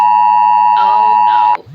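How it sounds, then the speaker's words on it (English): A tornado warning alert sounds during a tropical storm, a loud, steady, shrill electronic tone that holds for about a second and a half and then cuts off abruptly, with a brief murmur of voice partly under it. "we've got another tornado warning"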